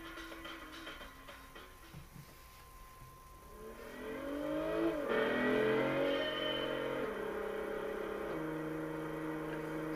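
Engine note of a 2003 Volkswagen Golf IV R32 in Gran Turismo 6, steady at first, then climbing as the revs rise, with stepped pitch changes through gear shifts at moderate volume and no talk.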